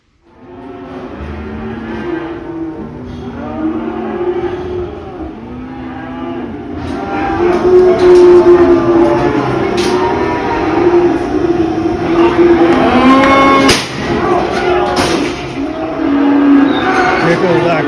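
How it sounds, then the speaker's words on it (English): Cattle at a livestock auction moo repeatedly, with several long, loud bellows rising over a busy sale-barn din of crowd noise and clatter that builds and stays dense throughout. "Here goes our cow right"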